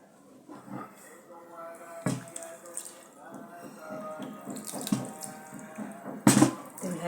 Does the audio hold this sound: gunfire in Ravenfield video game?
no